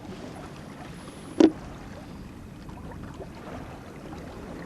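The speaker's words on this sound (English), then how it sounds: "for the first time in about 5 days we've actually got something that almost could be called a wind" Wind blowing from the southwest over the sea off Jan Mayen gives a steady, low rushing roar throughout, broken by one brief sharp knock near the start.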